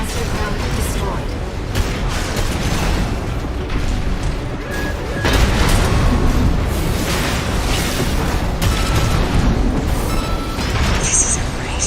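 A piloted mech, the AC Astra Crown, blows apart in Armored Core VI with heavy booming blasts and crunching metallic bursts, loud and dense over continuous battle noise.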